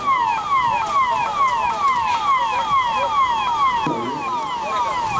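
Ambulance siren wailing at a rescue scene, a fast repeating up-and-down warble that stays loud and steady throughout, heard alone without voices.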